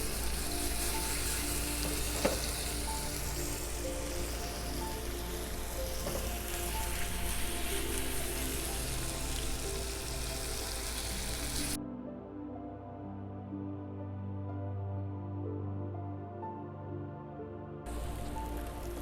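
Polish kielbasa sausage and pierogis with lots of garlic sizzling in a pan inside a Forno de Pizza oven, a steady close crackling fry that cuts out briefly, then returns.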